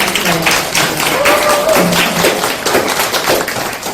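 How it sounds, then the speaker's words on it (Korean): An audience applauds to welcome a poet at a literary reading event, a dense spread of hand claps with scattered louder taps from people nearby. "우리 고두현 선생님을 박수로 맞이하겠습니다."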